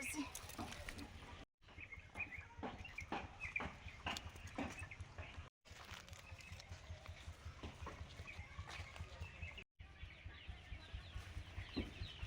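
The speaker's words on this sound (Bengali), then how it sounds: "এখানে ওই ছোট মুরগিগুলো থাকে, এই জন্য একটু ছেড়েছি।" Small chickens cluck in a sunny vegetable garden on a home plot, with repeated short calls running through the whole stretch at moderate distance. Outdoor background noise continues under them, and there are three brief breaks.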